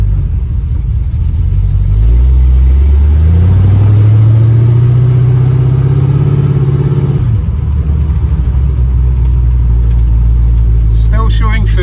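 A 1936 Chevy car drives with a loud, close engine rumble that rises in pitch as it accelerates, then drops off before resuming steady running, with talk over it.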